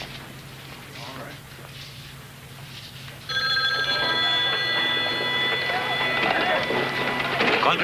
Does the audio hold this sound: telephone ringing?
yes